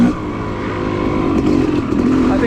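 Off-road dirt bike on OHV trails, a continuous close engine drone with slight rises in revs, heard without talk.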